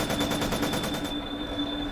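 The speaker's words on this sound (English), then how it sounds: "The gunfire resumed once again." Machine gun fire in the visual novel game Planetarian, a rapid burst of evenly spaced shots lasting about a second, then cutting off into a lingering steady hum.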